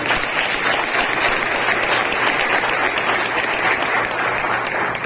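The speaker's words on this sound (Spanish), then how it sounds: "Bríndale un aplauso al Señor" A church congregation applauds during a worship service, a loud, dense, continuous wash of clapping that holds steady throughout without any speech over it.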